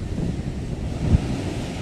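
High wind buffets a beach, a steady broadband roar of gusts against the microphone with surf rumbling underneath and one brief louder thump near the middle.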